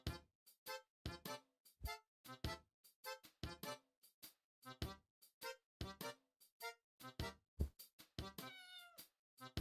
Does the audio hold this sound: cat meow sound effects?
yes